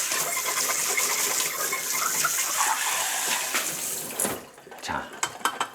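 Tap water runs steadily into a kitchen sink while dishes are rinsed after washing with detergent, then the flow stops, leaving a few soft clinks and handling sounds.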